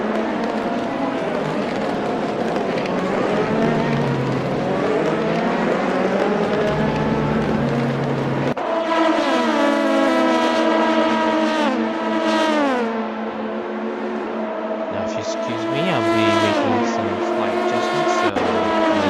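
Sim race cars dueling at Le Mans toward the Mulsanne corner, engines roaring loud and continuous with rising and falling revs, a sharp shift in engine tone partway through as the cars jostle, a faint voice now and then underneath.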